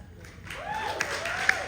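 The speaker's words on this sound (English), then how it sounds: "give her some applause for that" A BroadwayCon panel audience for the K-pop Broadway musical breaks into a short burst of applause, with clapping and a few rising whoops and cheers.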